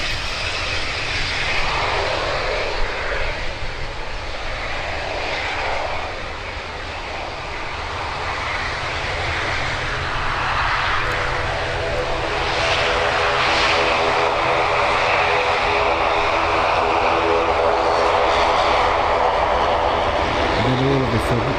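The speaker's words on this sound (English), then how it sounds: "I do love the sound of an ATR order." ATR turboprop airliner at Birmingham Airport, its engines droning loudly and steadily at close range, with a rising propeller whine toward the end and no talk over it.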